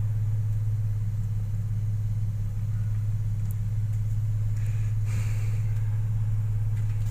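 A BMW 530i engine idles steadily with a constant low rumble and hum, heard from inside the car, with RPM dropping slightly and no speech over it.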